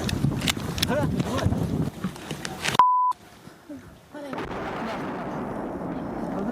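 Heavy booms and blasts of incoming mortar rounds and 120 mm Nona self-propelled artillery shells rumble over constant noise near the front line, with a brief electronic beep partway through.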